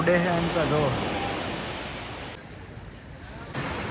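Sea waves wash onto a beach on Diu island, a broad steady surf roar with wind noise on the microphone, strongest at the start and easing off midway.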